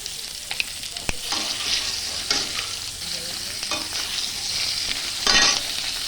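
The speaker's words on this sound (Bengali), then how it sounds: "ফোড়নে সব কিছু দিয়ে দিলাম একবারে" Whole cumin, bay leaf, green chilli and garlic hit hot oil for a tempering, crackling loudly up close with sharp spatters and scraping stirs throughout.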